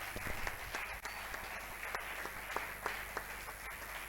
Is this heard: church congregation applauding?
yes